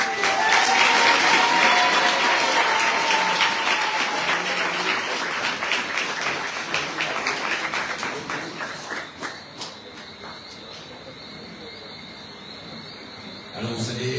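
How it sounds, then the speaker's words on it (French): A crowd applauds cyclist Taino Caillot at the team presentation for the 2024 Tour de Guadeloupe, loud dense clapping that gradually thins and fades into scattered claps and background murmur, with some voices underneath. "Mesdames, messieurs, sous vos applaudissements"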